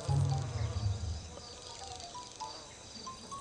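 A fly buzzes in a garden, a low droning hum that is loudest and closest in the first second, then fades to a softer, wavering buzz against quiet outdoor background.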